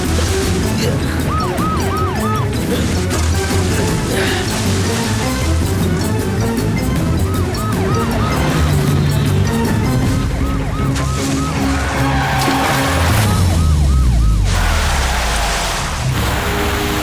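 Loud police siren wailing in repeated rising and falling cycles during a chase, mixed with car engine rumble, music and traffic noise that stay dense throughout.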